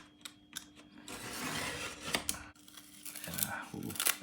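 Scissors snip and tear through tennis racket grip tape, a few quick cuts followed by a longer rasping rip and more close, sharp snips, soft and near with no talking.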